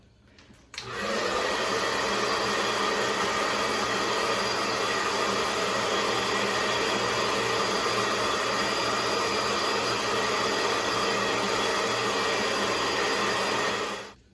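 A handheld hair dryer blasts continuously at close range while hair is dried upside down, switching on abruptly and holding a loud, even rushing roar for about thirteen seconds before cutting off.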